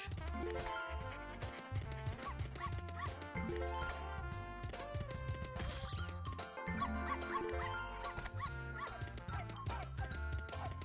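Dogs bark and yip in The Dog House Megaways slot video game, a few short barks mixed into busy, continuous game music with no talking.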